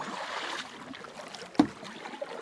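A canoe is paddled across Beaver House Lake in the Quetico wilderness, with soft water swishes and one crisp splash or knock of a paddle stroke against quiet outdoor ambience.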